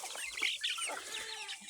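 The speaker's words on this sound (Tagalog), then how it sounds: "Yan na po yung ating mga alagang native na manok." Native chickens on a farm cluck and chatter in a short, faint burst of quick overlapping calls, heard up close with no talking.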